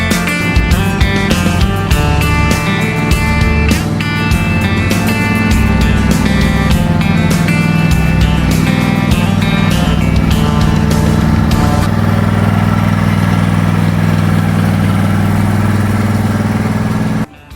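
A John Deere lawn tractor engine runs steadily as the ride-on mower is driven in, a loud continuous mid-pitched drone with irregular clattering early on, then settling into an even hum until it cuts off at the end.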